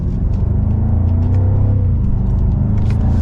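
A 2023 BMW M550i cruises along with a steady, smooth low engine and road drone filling the cabin, holding an even level throughout with no voices.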